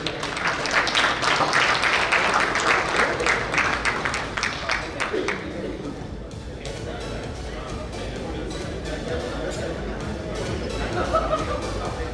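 A round of clapping from a banquet audience at an award night for an honoree called up on stage, loud for about five seconds then dying away into murmuring crowd chatter and talk.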